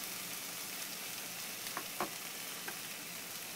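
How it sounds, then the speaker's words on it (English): Tomatoes and ginger paste hit hot oil in a pan while making chana masala, producing a quiet, steady sizzle with a few light utensil taps. "Now we're gonna add tomatoes. We're also gonna add ginger paste"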